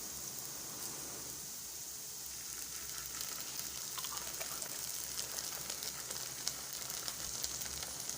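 Vegetables for veg fried rice sauté in a pan over a low flame, giving a steady soft sizzle and crackle that holds evenly throughout with no voices.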